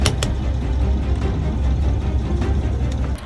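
A repaired engine runs steadily after its fuel injectors were reinstalled and the engine bled, a loud, low continuous rumble close by with a few faint clicks above it.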